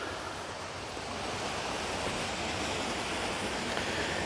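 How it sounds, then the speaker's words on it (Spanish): A stream running among large rocks near Juana Koslay, San Luis, gives a continuous, even wash of flowing water, moderately loud and close, with a slight breezy quality and no talking. "Mira el arroyo que hay acá."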